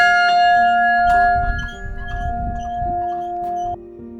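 A small bell rung by hand at a mountain hut in the Karavanke, several bright metallic strikes with long ringing tones that hang and overlap, close and fairly loud, with faint background rustle and no talking.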